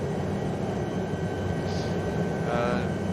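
An SA315B Lama helicopter in flight near the Mont Blanc tunnel entrance gives a steady, loud engine and rotor drone that fills the cabin, with faint tonal whines rising briefly above it.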